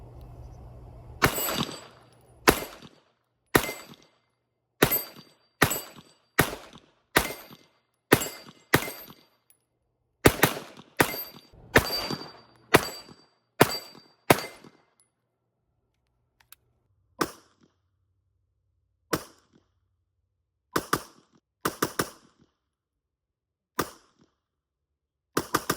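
Sharp gunshots from a Canik Mete MC9 Prime compact 9mm pistol ring out close by, about twenty rounds fired in quick strings with short pauses, then slower, spaced single shots.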